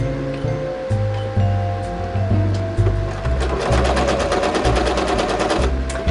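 A home sewing machine runs a narrow zigzag stitch at close range, its needle chattering in a fast, even mechanical rhythm with a low pulsing motor hum.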